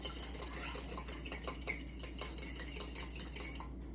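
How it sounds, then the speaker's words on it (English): A fork whisks a cracked egg in a bowl for gluten-free sourdough roll egg wash, giving a steady run of quick, light metallic clicks and taps against the dish, close and even, with no talking. "So I am going to crack an egg, and we are going to mix it up with a fork"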